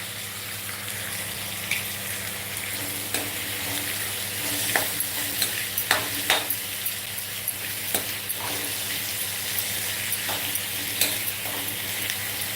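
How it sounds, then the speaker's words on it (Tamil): Cinnamon, cloves, cardamom, curry leaves and fennel sautéing in a pan, with a steady low sizzle and irregular scrapes and clinks of stirring throughout, close and moderately loud, with no talk. "பட்டை, கிராம்பு, ஏலக்காய், கொஞ்சம் வாசனைக்கு கருவேப்பிலை, சோம்பு எல்லாத்தையும் போட்டு நம்ம வதக்கிடுவோம்."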